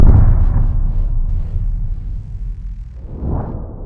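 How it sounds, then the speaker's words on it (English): An explosion sound effect opens with a loud, deep blast that decays into a long rolling rumble, followed by a softer whooshing swell near the end. "the city of Mohenjo Daro would have been destroyed by an explosion very similar to that which a modern nuclear bomb could trigger"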